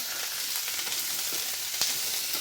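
Spring onion stalks stir-frying in a pan for a thoran make a close, continuous crackling sizzle, with faint stirring ticks and no talking.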